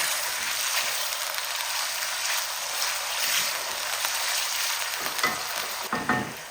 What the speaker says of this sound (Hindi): अब इसको उतनी देर फ्राई करेंगे कि इसका कलर चेंज हो जाए।